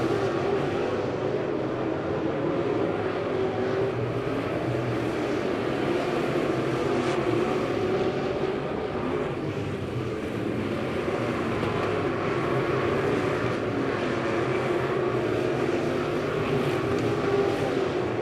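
Race cars roar around the dirt oval at Lebanon Midway Speedway during a feature race, a dense, continuous engine din at steady loudness with no talk.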